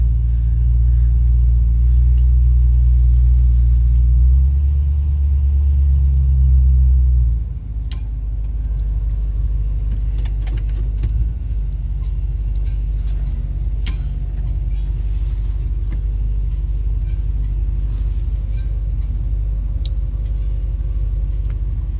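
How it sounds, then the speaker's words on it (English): A car with a carburetted engine drives along, its low steady rumble dominant and loud throughout, dropping a little in intensity partway through, with faint ticks above and no talk. "Driving this car."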